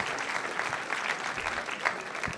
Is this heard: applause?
yes